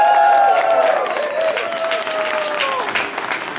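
A concert audience at the Hephata Festtage in Schwalmstadt, Germany, applauds loudly with dense clapping and some cheering, holding steady before tapering slightly as a voice comes through.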